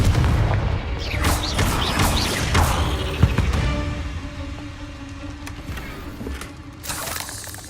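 Confringo fire spell cast in the video game Hogwarts Legacy inside a cave, heavy booming blasts with whooshes and crashing impacts rolling over several seconds, then fading into rumbling echoes.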